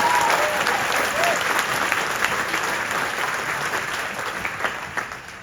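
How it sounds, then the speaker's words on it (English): Audience applause for first responders at an orchestra event: a dense, loud wash of clapping that slowly fades, with a few brief voices near the start. "how about a big round of applause for our brothers?"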